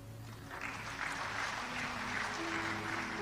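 Church congregation applauding at a sermon, a broad steady wash of clapping at moderate distance with a faint hum beneath, lasting several seconds.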